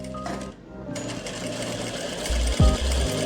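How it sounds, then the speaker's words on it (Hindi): A sewing machine runs close up, stitching the elastic casing of a palazzo, a quick, whirring run of needle strokes that grows slightly louder toward the end. "उस पर आपने सिलाई लगानी है"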